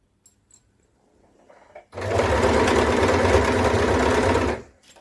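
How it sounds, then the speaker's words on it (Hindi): Electric sewing machine stitching fabric for a half-collar suit, starting with a couple of faint clicks, then a loud, steady whirring run of about three seconds before stopping. "वैसे ही आप मशीन को आगे से चलाते रहें"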